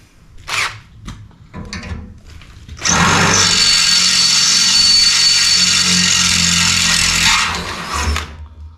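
A loud power drill whirs steadily for several seconds after a few short starts, close up, then winds down, drilling for a Jeep Gladiator bed rack.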